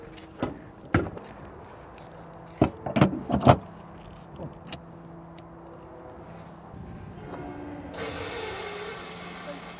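A Toyota Mirai hydrogen car being refueled at a pump: a few sharp mechanical clicks and clunks from the nozzle and latch, followed by a steady rushing hiss of gas flow toward the end, with quiet background rumble.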